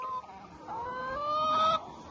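Chickens cluck and murmur close by, with rising and falling calls overlapping in a soft, busy flock chatter.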